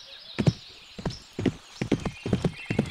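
Hooves clip-clopping in the horse riding video game Riding Star, a quick uneven run of close, crisp hoofbeats in groups of two or three, with no talk over them.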